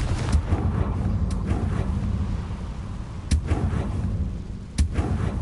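Bombarda and Confringo spells go off in Hogwarts Legacy as a few sharp, separate blasts standing out from a steady windy background rumble; no one speaks.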